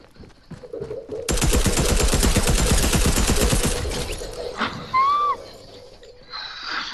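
A video game gun fires a dense, loud burst of rapid automatic shots lasting about three seconds, then cuts off, leaving softer clatter and a couple of brief whistling tones.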